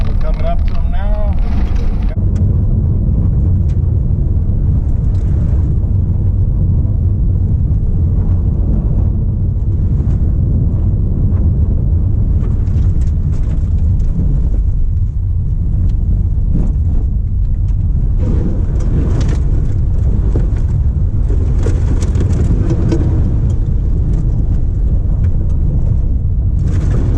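A Honda HR-V Sports Badge driving through huge puddles, with a heavy rumbling wash of water against the car that stays loud throughout and swells near the end, under talk.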